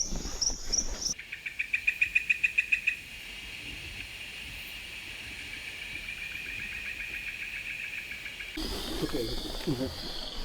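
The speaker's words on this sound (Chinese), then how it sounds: "我能听到来自丛林的许多声音：猴子的叫声、鸟类、青蛙的鸣叫声" Animal sounds of the Amazon rainforest at Tambopata, Peru: a quick run of rhythmic insect or frog pulses gives way to a steady chirring drone, and then bird calls break in near the end.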